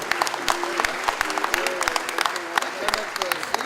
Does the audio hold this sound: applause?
yes